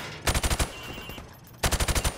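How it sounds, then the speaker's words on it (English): Gunfire from Call of Duty shoots through plywood at targets in two rapid bursts of five or six loud, close shots each, separated by about a second of quieter ringing. "I want you to shoot the targets through the wood"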